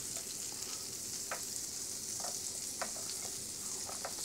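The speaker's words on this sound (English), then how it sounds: "just get them gently in the pan." Seasoned crow fillets sizzle steadily in a frying pan, a continuous close hiss with a few faint pops and clinks over the top, with no talking.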